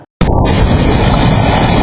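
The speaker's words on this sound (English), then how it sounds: "A home security camera captured a massive explosion tearing everything apart." A massive explosion caught on a home security camera: a sudden, loud blast hits after a brief silence, then a dense, roaring wash of noise sustains without letup, with no talking.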